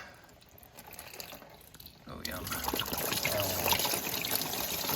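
Engine coolant trickles and splashes from a Can-Am Outlander ATV radiator into a drain pan and onto the floor, a steady pour that grows louder midway, with a person speaking briefly over it.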